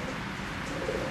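Racing pigeons in a breeding loft in Germany giving soft, continuous cooing, close by and steady, with no voices.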